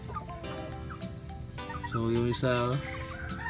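Native chickens, with a Rhode Island Red among them, cluck and call in a short run of throaty bursts close by on a rural farm, while someone speaks quietly underneath.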